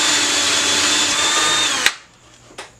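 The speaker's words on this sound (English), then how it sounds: "So I'm going to just drill a hole" A power drill whirs steadily at high speed drilling a hole in wood, then cuts off abruptly, followed by a single faint click in the quiet.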